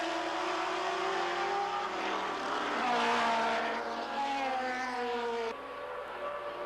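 Can-Am race cars at Mosport Park, Canada, in 1985: high-revving engines whine and rise in pitch as they pass, one car close under braking then accelerating away, a steady loud roar with shifting tones.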